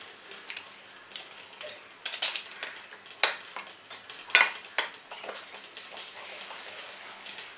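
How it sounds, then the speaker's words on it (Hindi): A spoon stirs semolina and gram flour batter with Eno for dhokla in a bowl, giving irregular clinks and scrapes against the bowl, some sharper than others, quiet and close. "रवा और बेसन थोड़ा मिक्स कर लेंगे और उसमें डालेंगे इनो।"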